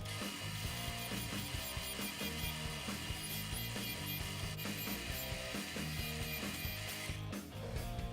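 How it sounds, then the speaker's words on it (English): Countersink bit drilling a screw hole in a wooden skateboard deck, a close, continuous grinding, ratcheting whir that holds steady for several seconds, faint overall and without talk. "we're going to do that with the countersink bit"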